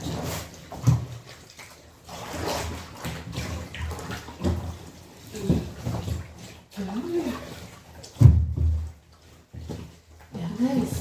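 Water pours and splashes into a bathtub to soak a heavy duvet for washing, an uneven gushing with sloshing bursts, and people talk over it throughout.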